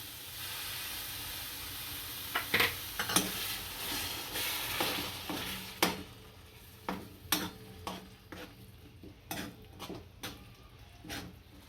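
Tomato gravy goes into a sizzling pan of red chilli masala while bitter gourd curry cooks. The sizzle is soft and near, with a series of sharp spoon clicks and scrapes against the pan, and no voices.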